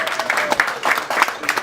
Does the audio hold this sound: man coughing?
no